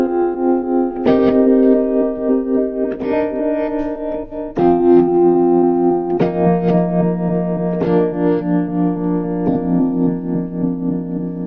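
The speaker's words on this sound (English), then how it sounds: "The tremolo effect, look. The MFX tremolo." Roland VR-09 keyboard plays sustained chords through its MFX tremolo effect. The shimmering, pulsing tones change every second or two, played alone without voices.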